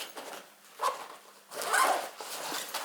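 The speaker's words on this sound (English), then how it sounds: "under the lid there's a separate zip." The separate lid zipper of a Mountain Designs Gecko 30 day pack rasps open in several short pulls, close and fairly loud, with brief pauses between the strokes.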